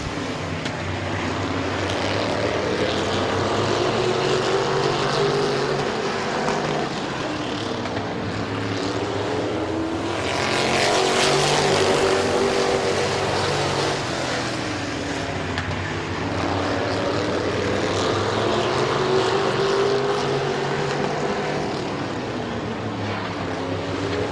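Race cars circling the Midvale Speedway oval during a May 2016 race, with a steady engine drone that swells around the middle as cars pass close, then settles back to a continuous roar.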